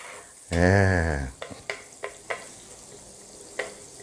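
Sausage and garlic stir-fried in a pan over low heat: a loud sustained tonal sizzle-like burst opens, then a handful of sharp, separate spatula clicks and scrapes against the pan.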